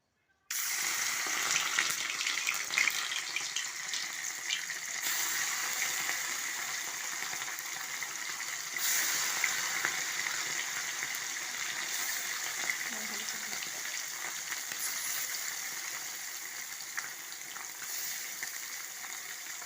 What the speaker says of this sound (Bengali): তেলটা গরম হয়ে গেছে, এবার আমি মরলা মাছগুলো দিয়ে দেবো